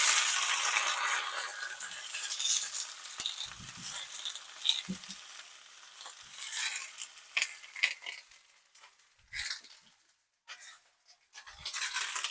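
Tomatoes sear in a hot pan with a bright, hissing sizzle that rises and falls, interrupted by a few soft clinks and knocks of cookware.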